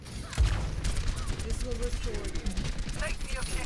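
Gunfire in the Overwatch video game, aimed at the hero Hog: a dense, continuous burst of rapid shots with small in-game tones and effects mixed in, fairly loud and sustained throughout.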